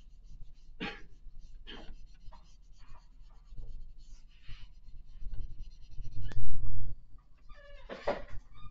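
A marker coloring on paper while shading building sides in a cityscape drawing: faint scratchy strokes in short bursts with pauses, close up and quiet, with a louder rustle near the end.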